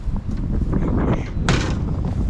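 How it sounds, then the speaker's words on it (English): A car door on a 1961 Mercury with a seized straight-six slams shut once about midway, a sharp broadband thud rising above steady background rustle and wind-like noise. "Door does shut."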